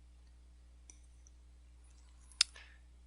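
A computer mouse clicks on a website button, with a faint tick early on and then one sharper, distinct click against a quiet background hum.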